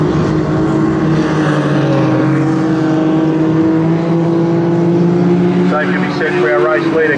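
Junior sedan race cars circle the Toowoomba Speedbowl, engines droning loudly and continuously with rising and falling pitch as they pass through the turns, under a commentator's voice.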